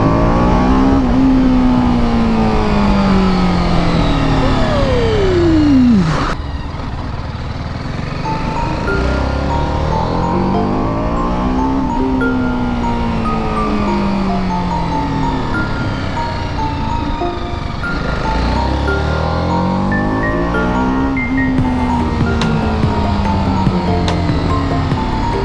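BMW 310 RR motorcycle lapping a race track, its engine loud and continuous, pitch climbing and dropping repeatedly through quick gear shifts over about 25 seconds with no talk.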